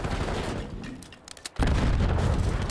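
Grenade blasts in a Call of Duty League Major III qualifier match rumble loud and broadband, a dense stretch of explosions and gunfire, a brief lull, then another heavy boom sustained to the end.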